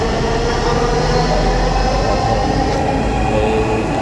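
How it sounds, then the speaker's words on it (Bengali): A Dhaka metro rail train pulls away from an upper-level station platform, its steady loud rumble and rolling wheel noise filling the space without pause, with no voices over it. "আসা মাত্র একটি ট্রেন চলে গেল"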